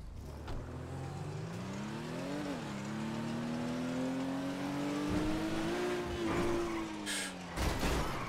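A car engine in the GTA video game revs and accelerates, its rising and falling drone climbing steadily, with brief tire and impact noises near the end.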